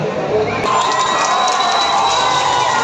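A crowd at a Dahi Handi festival cheering and shouting loudly, with children's high voices mixed into a dense, continuous roar that swells after a brief opening.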